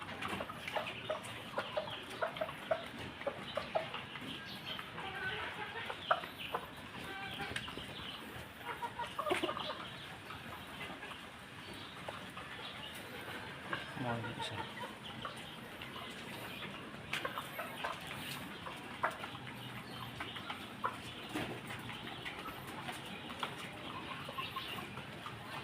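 Backyard chickens cluck and peck at scattered feed, giving soft irregular clucks and scratchy pecking taps over a quiet outdoor background.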